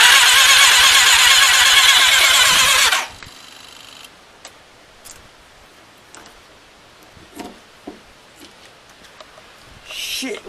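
A Yamaha Thunderace motorcycle engine with ongoing faults roars loudly for about three seconds and then cuts out abruptly. Scattered faint clicks and knocks follow in near silence, and a short burst of engine noise returns at the end.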